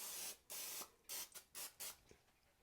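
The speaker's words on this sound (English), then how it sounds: "I'm going to spray it lightly with some non-stick spray" Several short hissing bursts of aerosol cooking spray, about five quick sprays in an uneven rhythm, close by with quiet pauses between.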